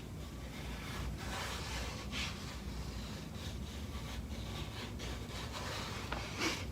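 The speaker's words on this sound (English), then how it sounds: "There's also like the cardboard scratching" Cardboard scratched continuously at close range, a steady rough rubbing texture with occasional brighter scrapes and no talking.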